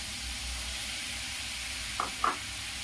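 Peas tipped into a pan of potatoes frying for veg cutlets, under a steady close sizzle and hiss, with two quick soft knocks near the end.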